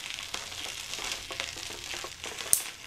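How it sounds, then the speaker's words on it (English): Quiet scraping and faint sizzle of Russian military ration food being stirred as it heats in a pan, with soft intermittent spoon clinks and a sharper knock near the end. "Let's mix it though so we don't burn it."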